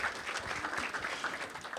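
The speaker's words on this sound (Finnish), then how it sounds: "Annetaan vielä yhdet aplodit Aapolle." An audience at the Savosec 2024 event gives a short burst of steady applause, moderately distant, with no talk over it.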